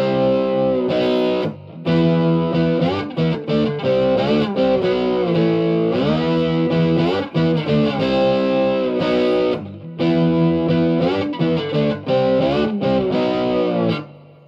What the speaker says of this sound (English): Distortion, obviously it sounds a lot better